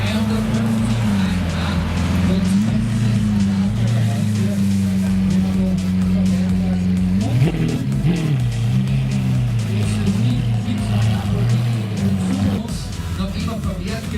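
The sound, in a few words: Lamborghini V12 engine car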